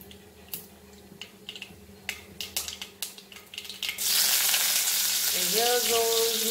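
Chopped onion drops into hot coconut oil for a Goan red spinach dish. Light clicks and taps come first, then a loud, steady sizzle takes over near the pan, and a faint voice is heard briefly.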